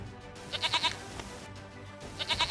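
A goat in The Witcher 3 bleats twice in quick wavering bursts, once near the start and again near the end, over a constant low game ambience.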